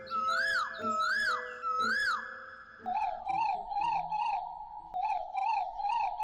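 A voice imitates a frog croaking in a cartoon scene, repeating warbling, wavy calls in two rhythmic runs: first higher-pitched, then lower. The calls are loud and close, with no background noise.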